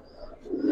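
Domestic pigeon of a fancy breed (Silver Khaki, Military, Homer) cooing faintly and briefly, swelling into a low soft coo at the end.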